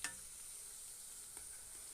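Shev samosa frying in oil over a slow flame, giving a steady, soft continuous sizzle with a brief faint clatter near the start and another small knock partway through.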